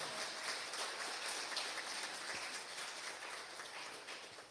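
Church congregation applauding during an evening sermon, a faint, steady wash of clapping from across the room with no voices over it.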